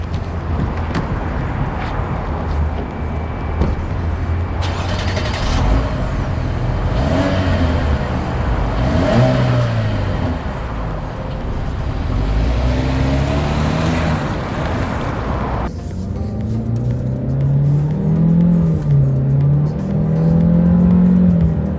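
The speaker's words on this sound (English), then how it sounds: "let's take the 2021 Chevrolet Malibu from Connell Chevrolet for a spin." A 2021 Chevrolet Malibu RS sedan drives and accelerates, its engine note rising and shifting through gears steadily and close by, with road noise throughout and no talking.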